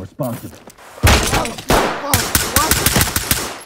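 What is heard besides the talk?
gunshot from the video game Ready or Not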